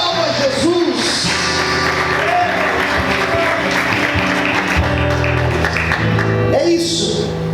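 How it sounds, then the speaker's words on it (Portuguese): A church congregation applauds during a service, with sustained loud clapping and crowd noise mixed with whoops and cheers, steady from start to finish. "Aplauda Jesus."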